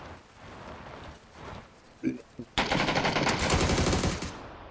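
Bursts of automatic gunfire from the battle royale video game PUBG, a few sharp shots then a loud sustained rapid-fire stretch, with voices talking over it.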